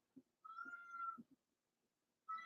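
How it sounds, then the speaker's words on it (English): A cat gives a short run of meows in a quiet room, a few soft chirps followed by a longer drawn-out meow and another rising meow after a pause, close and clear with no talk. "You're hearing her range of meows that she doesn't usually express."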